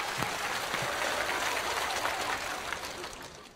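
Audience applause at a stand-up comedy show, a dense even wash of clapping from a crowd, steady and moderately loud before slowly easing off, with no speech over it.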